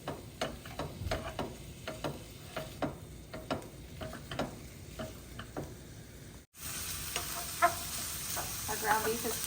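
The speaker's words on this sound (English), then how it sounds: "Ground beef is starting to brown." Ground beef with 12% fat fries in a pan, its sizzle punctuated by regular scraping stirs from a utensil, then a brief cut before a brighter, louder hiss resumes.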